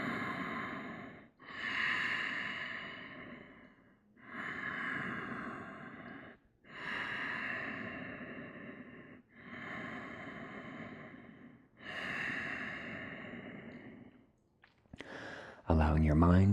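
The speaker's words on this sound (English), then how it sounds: "Keep going with this steady, focused Ujjayi breath" Steady Ujjayi breathing through the nose during a short yoga class, heard as about six long, even breath cycles with soft, airy, slightly throaty rushes and brief pauses between them, close and alone.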